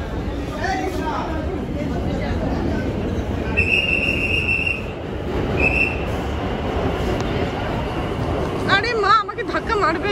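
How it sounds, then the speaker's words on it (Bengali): A Kolkata underwater metro train runs through its tunnel with a loud continuous rumble, a high sustained wheel squeal rising midway, and a beeping door chime near the end, heard from inside the carriage. "উঠে পড়েছি মেট্রোতে"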